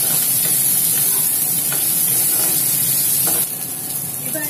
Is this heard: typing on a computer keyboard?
no